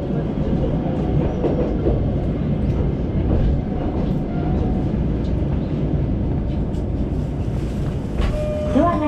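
A tram rumbles loudly and steadily on its rails arriving at Dogo Onsen terminal in Matsuyama, with clattering wheels and a brief squeal near the end as it slows.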